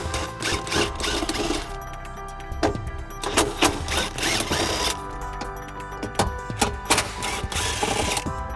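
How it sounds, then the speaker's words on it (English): Bracket screws on a 2020 Acura RDX being run out with a 10mm socket on a power driver, giving repeated whirring bursts with short pauses and ratcheting clicks between them, close and fairly loud. "We're going to be using a 10mm socket to remove the screws."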